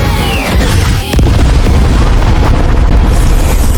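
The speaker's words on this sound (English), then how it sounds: "Therapy missile incoming. Missile lock confirmed." A missile explosion sound effect, a loud, sustained roaring blast filling the whole clip with a brief dip near the start.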